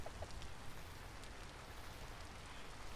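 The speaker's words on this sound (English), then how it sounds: "I desperately want to get out of this goddamn rain" Steady rain in the medieval survival video game Vintage Story, a dense even hiss of falling drops running continuously through the clip with no voices.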